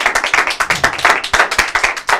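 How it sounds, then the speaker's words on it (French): A live audience applauds a singer as she takes the stage at a Saturday show: steady, fairly loud clapping from a crowd, with rhythmic hand claps heard alone for about two seconds. "On l'applaudit"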